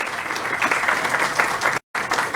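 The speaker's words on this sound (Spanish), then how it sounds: "Un aplauso, por favor" An audience claps steadily, a dense patter of many hands, briefly cut off near the end before resuming.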